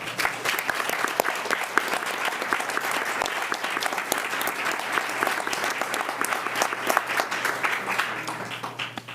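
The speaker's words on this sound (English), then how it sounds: "if you would join me in a round of applause for the great work" Audience at a Board of Education meeting breaking into steady, sustained applause, dense clapping filling the room at even volume with no one speaking over it.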